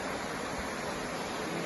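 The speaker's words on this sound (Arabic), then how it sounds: "ان شاء الله هذا النهر والشلال" A river and waterfall near Sochi, Russia, give off a steady, dense roar of rushing water that fills the whole scene evenly, with no voices over it.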